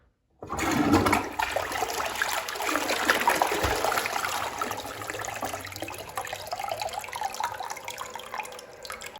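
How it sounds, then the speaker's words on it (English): A rimless toilet flushes with a steady rushing wash of water that swirls around the bowl for several seconds, close by and with no talking. "we've ever had a rimless toilet, and it's really cool the way that the water rinses"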